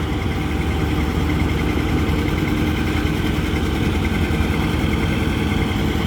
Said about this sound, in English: Daryl Altman, Portland, 57, John Deere, 820.